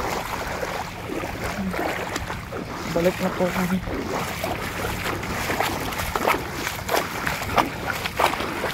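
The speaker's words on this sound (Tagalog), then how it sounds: "Malakas din po ang hangin." Strong typhoon winds from Typhoon Karina roar and buffet the microphone continuously among banana plants, with gusty swells throughout and people talking over the noise.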